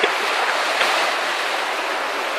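Sea waves surge and wash at Hornsea beach in a steady, loud rush of surf, with wind noise across the microphone throughout and no talking.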